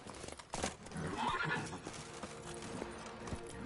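Roach the horse in The Witcher 3 gives a sharp whinny amid hoofbeats, a brief, close neigh over clip-clopping, with a game soundtrack low underneath.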